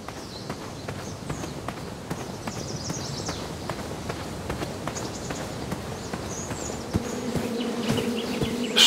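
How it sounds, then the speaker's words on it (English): Insects buzz around a beehive in the King's Quest video game, a continuous busy drone with repeated soft ticks and thumps, a low hum swelling toward the end. "Shame about that buzzing beehive, though."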